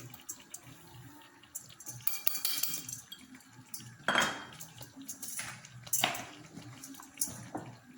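Coconut powder being stirred in a metal pot, with scattered clinks and scrapes of a spoon against the vessel, moderately close over a soft background hiss.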